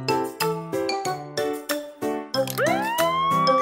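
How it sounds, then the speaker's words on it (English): A cartoon police car siren in a children's nursery-rhyme song gives a rising wail that sweeps upward near the end, layered over bright, bouncy musical chimes. "All police cars have sirens and lights."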